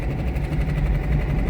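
A lawn mower engine runs steadily at about half throttle, a continuous loud low drone with slight vibration, alone and close.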